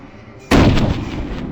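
Gunshot sound effect in a Thai comedy sketch: one sudden loud blast that starts abruptly partway through and leaves a long, booming tail that stays loud until the end.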